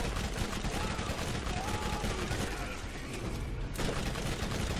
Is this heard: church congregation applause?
no